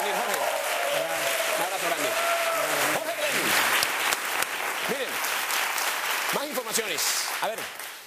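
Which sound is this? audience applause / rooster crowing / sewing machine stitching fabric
audience applause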